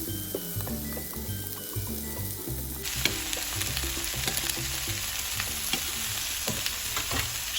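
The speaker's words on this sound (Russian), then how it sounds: "я переворачиваю, чтобы она обжарилась с обеих сторон" Fish fries in butter in a pan, giving a steady, close crackling sizzle with soft stirring and scraping noises throughout.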